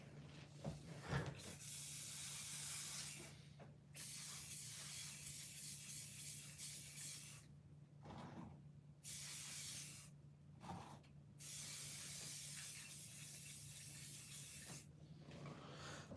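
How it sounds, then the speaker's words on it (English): Several long hissing bursts from a spray paint can, separated by short pauses, close and steady. "the spray paint is not that great."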